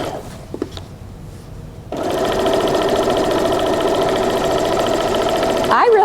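A sewing machine stitches quilt strips for a block-of-the-month quilt, first a few soft clicks of handling the fabric, then a steady whirring run of fast stitching, close and loud, with no talk.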